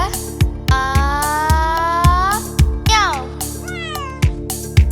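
A cartoon cat meows in a children's animated song, with several long, sliding meows over a bouncy beat and music, loud and up front.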